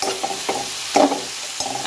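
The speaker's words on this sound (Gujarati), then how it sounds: "હવે આપણા ટામેટા થોડા શેકાઈ ગયા છે, એમાં મેં આદુ લસણનો પેસ્ટ નાખી દઈશ 1 ચમચી, અને એને પણ આપણે સારી રીતના સાંતળી લઈએ" Tomatoes and a spoonful of ginger-garlic paste sauté in a pan for dhaba-style paneer bhurji, with a steady close sizzle broken by several quick spoon scrapes and stirring strokes.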